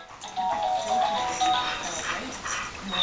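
A dog named Charlie gives soft, close whimpers and small yips while a person talks to it nearby.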